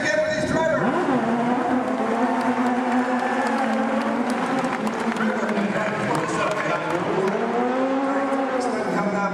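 Stunt cars rev and roar through maneuvers at a Walt Disney World theme park stunt show, engines rising and falling in pitch while an announcer talks over them.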